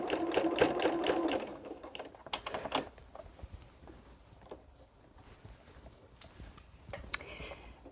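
A sewing machine stitches a quarter-inch seam across a mitered fabric corner in a quick rapid burst during the first second, then stops, leaving quieter handling and faint rustling.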